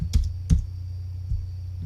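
Two crisp keystrokes on a computer keyboard, then a softer third tap, in a quiet room with a steady low hum beneath.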